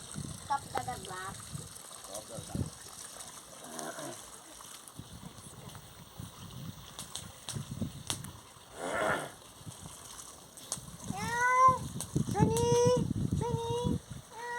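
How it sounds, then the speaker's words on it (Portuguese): A cat meows a few times in quick succession late on, near and fairly clear, at a rural property on a cold night with a campfire and a running fountain; people talk and move around beforehand. "Tem um gato aí? Cadê o gatinho?"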